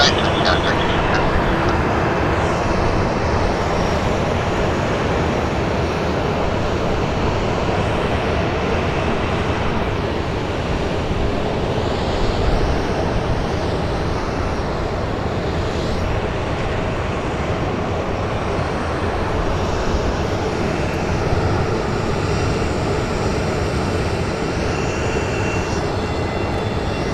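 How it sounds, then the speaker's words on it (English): A SkyWest Embraer E175 jet rumbles at Phoenix Sky Harbor airport with a loud, sustained engine roar that swells and eases slightly, while radio voices talk over it. "SkyWest 3379 heading back to Portland, an Embraer E175."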